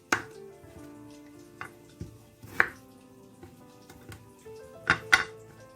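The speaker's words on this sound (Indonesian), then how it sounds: "Sambil nunggu tahunya mateng, kita potong parenya dulu ya." A knife cuts through bitter melon (pare) on a board in a home kitchen, giving a few crisp, irregularly spaced chops and taps, close and clear, with a faint tonal hum underneath and no talking.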